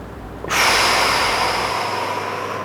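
A strong breath rushes out suddenly during a barbell hamstring mobilization stretch, a close, loud hissing exhale that holds steady and slowly fades over two seconds.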